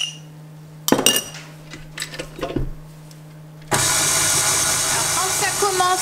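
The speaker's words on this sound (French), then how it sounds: "on va commencer à pétrir ça ensemble" Stand mixer starting to knead brioche bun dough with butter, milk and yeast, clinks of bowl and utensils first, then a sudden steady motor whir and rhythmic churning that carries on loud and close.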